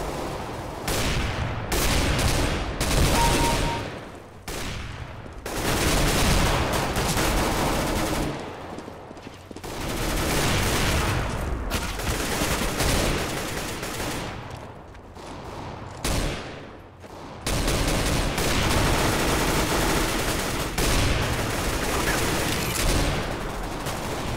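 CS:GO gunfire in sustained loud bursts of rapid shots, broken by brief pauses, then resuming again and again.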